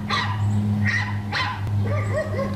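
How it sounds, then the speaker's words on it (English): Dogs bark outside in several sharp, separate yaps heard through a closed window, fairly faint over a low steady hum, with no talking. "I think I hear barking dogs"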